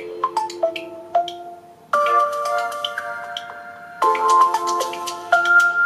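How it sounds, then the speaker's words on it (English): Ringtone from an Oppo phone running ColorOS 14 with the aquamorphic theme: a bright, melodic sequence of chime-like tones in three rising phrases, clear and alone with no talk. "you're gonna get a ringtone that sounds something like this."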